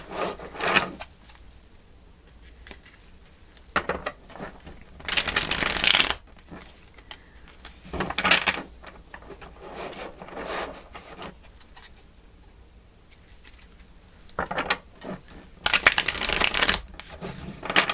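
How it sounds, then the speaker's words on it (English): Tarot cards are shuffled in several separate bursts of close, crisp riffling and rubbing, with quiet pauses in between. "now those cards do not want to shuffle"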